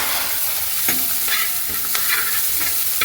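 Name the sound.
onions sautéing in a pan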